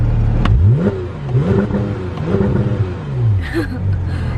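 A Porsche 911 GT3 engine revs repeatedly, rising and falling in quick bursts over a low rumble, close and loud.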